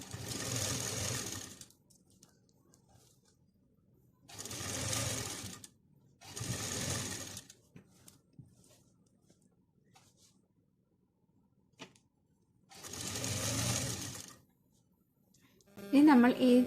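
Sewing machine stitching a kurti seam, running in four distinct bursts of steady whirring separated by quiet pauses, with a brief clatter at the very end.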